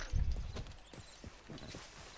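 A horse in Red Dead Redemption 2 shifts restlessly, its hooves clopping in a few soft, uneven thuds close by, fairly quiet overall.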